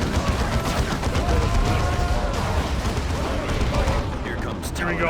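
Grenade blast and gunfire from the Dawn of War II: Chaos Rising strategy game, with a steady roar of sustained battle noise and rumbling impacts, loud throughout and fading slightly toward the end.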